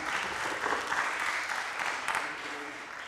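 Audience applause at a children's climate summit after a speech, a steady wash of many hands clapping at moderate level with no voice on top for about three seconds.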